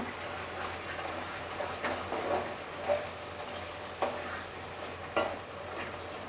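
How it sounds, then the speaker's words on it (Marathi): Turmeric and Kashmiri chili powder fry in a pan for a spicy misal, giving a steady low sizzle broken by a few scraping stirs at irregular moments, moderately close and with no talk. "हळद आणि काश्मीरी मिरची पावडर परतून घेऊया."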